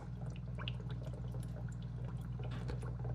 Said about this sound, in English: So we got bubbling water